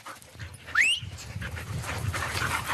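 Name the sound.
dogs panting on a walk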